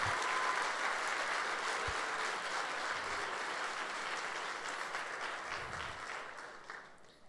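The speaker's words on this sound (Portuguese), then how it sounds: "Dá um aplauso bem forte." A church congregation at a Sunday service breaks into strong, steady applause that fills the room evenly and tapers slightly toward the end.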